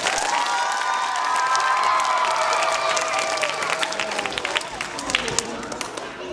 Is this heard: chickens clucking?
no